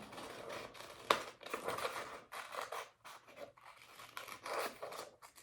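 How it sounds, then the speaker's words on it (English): Scissors snipping around a paper circle for a simple craft, a run of quiet, close, uneven cuts and rustles with short pauses, no talking. "So you draw a circle, and then you cut the circle out."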